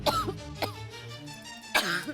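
A person gives several hoarse, fairly close coughs, spaced apart, with a throat-clearing quality, in a quiet indoor setting.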